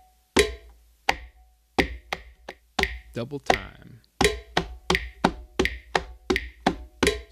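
Sharp, evenly spaced hand strokes on a conga drum alternate heel and tip, starting steady and then doubling in pace, with a brief spoken cue partway through.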